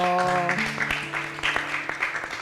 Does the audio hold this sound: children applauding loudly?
yes